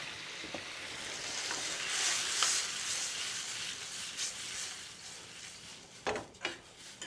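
Cream poured into melted butter for chicken makhani, a soft steady sizzle and frying hiss in the pan with faint stirring scrapes and a few brief clinks, mid-level and close, no talking.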